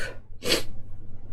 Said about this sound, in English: I needed to sneeze.